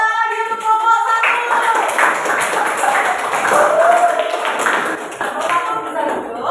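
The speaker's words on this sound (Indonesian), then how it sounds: "tepuk tangan lagi untuk kelompok 1" Students in a classroom clap for a group of classmates, a dense, steady patter of many hands lasting several seconds, with children's voices mixed in.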